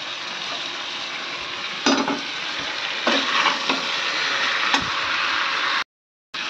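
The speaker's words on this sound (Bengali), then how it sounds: "একটু ভালো করে পেঁয়াজটা একটু ভেজে নিই, লাল করে ভেজে নিয়ে কষে ভালো করে করবো" Onions stir-fried in a pan until reddish, with a steady loud sizzle and occasional scraping stirs, ending in a brief dropout to silence.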